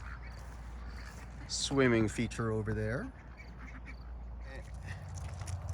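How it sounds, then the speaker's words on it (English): Ducklings on a small farm give a quick run of loud, close quacks in the middle, with a person talking nearby. "it's the first time in years that he's lived with ducks, where they are ducklings, but soon they will be ducks."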